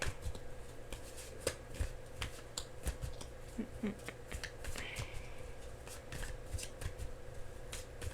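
Crisp, repeated riffling and snapping of tarot cards being shuffled, quick irregular bursts over a steady low hum, fairly quiet and close.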